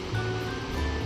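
Shrimp pakoras dropped into hot oil for deep-frying, giving a steady, continuous sizzling hiss close by with a low rumbling bubble underneath and no voices.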